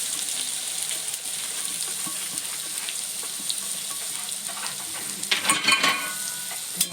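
Onion with chili and cumin frying in oil, a steady hissing sizzle with stirring scrapes, growing louder and busier with spoon clatter near the end.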